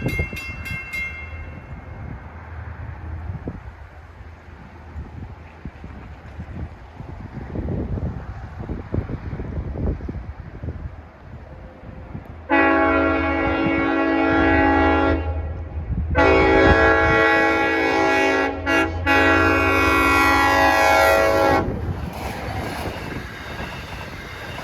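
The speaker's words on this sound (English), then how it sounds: "here comes 22, bound for Montauk with the 409" A Long Island Rail Road train on the snowy Montauk Branch approaching with wind buffeting the microphone, then sounding loud sustained horn blasts, a short blast followed by a longer one, close by with no voices.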